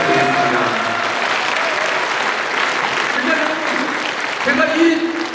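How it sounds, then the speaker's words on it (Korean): A crowd applauds steadily, a dense wash of clapping from many hands, with a voice faintly audible through it. "박수 부탁드리겠습니다"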